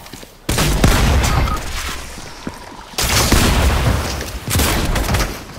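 Loud, close gunfire and booming blasts ring out in a video game shootout, arriving as a few heavy sustained bursts that each decay before the next.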